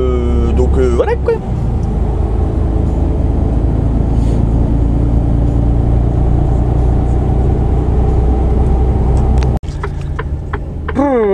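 A heavy truck engine hums loudly and steadily as the vehicle pulls away, a low continuous drone with a brief dip near the end, while someone talks over it.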